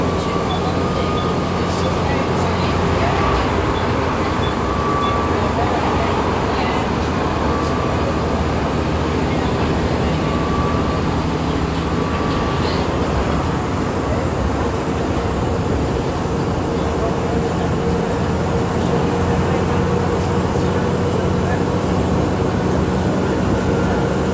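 Arriva Northumbria bus 7494, a Wright Gemini double-decker, driving along with a loud, steady engine drone and road rumble heard from inside for the whole stretch, with faint voices beneath.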